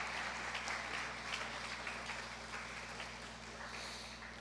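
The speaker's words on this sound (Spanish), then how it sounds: "Denle ese fuerte aplauso al Señor Jesús." Congregation applauding during a church service, a fairly soft, steady wash of clapping from many people that slowly tapers off.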